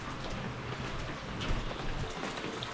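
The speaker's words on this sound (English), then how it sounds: "I noticed it was coming down pretty hard. The rain, that is." Heavy rain pours down steadily, a dense, continuous hiss of drops close by with no voices.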